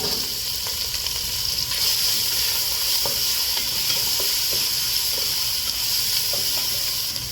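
Onion, pepper leaf and garlic frying in hot oil for a pork curry, a loud steady sizzle and hiss with occasional stirring scrapes, no voices.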